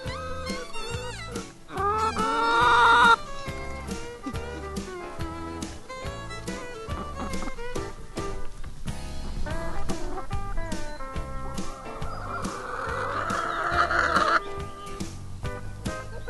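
Farm chickens cluck and a rooster crows, a busy run of bird calls mixed into a steady, rhythmic backdrop that carries on for the whole stretch.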